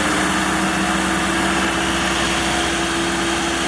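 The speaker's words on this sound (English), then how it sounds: "The cooling fan has kicked on." A steady, loud whirring drone from the cooling fan in a 2008 Chevrolet Cobalt LS engine bay, a constant fan-like roar with a fixed hum underneath, unchanging throughout and with no voices.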